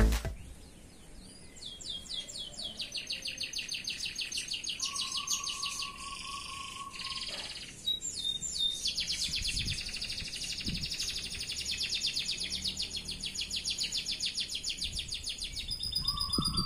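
A canary sings continuously in bright, rapid trills and warbling phrases, close and loud, with brief pauses and a steady whistled note partway through.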